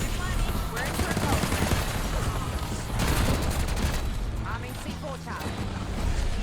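A ray gun fires in Black Ops 6 Zombies at round 50, its blasts buried in a dense, continuous wash of gunfire, explosions and game effects, with a voice talking over the din.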